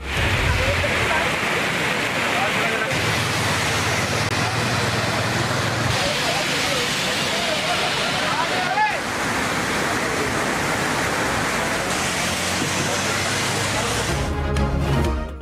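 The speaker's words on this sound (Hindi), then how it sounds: "रावलपिंडी में भी मूसलाधार बारिश।" Heavy downpour in Rawalpindi, a dense, steady roar of pouring rain filling the whole clip at constant loudness, with a newsreader's voice faintly over it.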